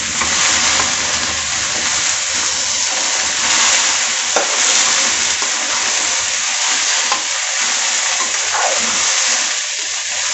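Sliced okra (lady's finger) frying in a pan while being stirred, a loud continuous sizzle with scraping stirring sounds close up and no talking.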